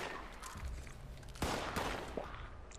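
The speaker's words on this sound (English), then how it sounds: "I'm in the middle of getting shot at." Gunfire in a video game, a few sharp cracking shots and a quick burst near the middle over quiet ambient background, fairly distant and moderate in loudness.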